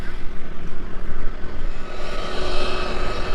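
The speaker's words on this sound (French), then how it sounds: "t'as un avion qui te passe à peine au-dessus des cheveux" A small airplane on landing approach passes very low overhead above the runway, a loud broadband engine roar with wind noise that stays strong throughout.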